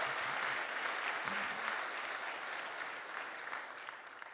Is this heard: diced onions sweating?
no